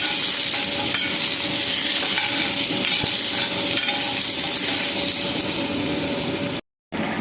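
Shallots, tomato and garlic sautéing in a pan, a loud continuous sizzle with faint stirring scrapes, steady throughout apart from a brief dropout near the end.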